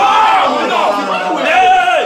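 An excited crowd at a rap quiz show cheers and whoops loudly, a dense wall of shouting voices rising and falling over about two seconds, close and energetic.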